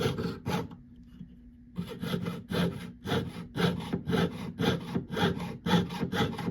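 A hand saw blade cuts through metal in quick, rhythmic back-and-forth strokes, close and rasping, with a short pause near the start before steady sawing resumes.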